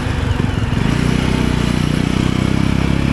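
A motorcycle rides along a winding mountain road, its engine droning steadily and loudly up close for the whole stretch, with no talking.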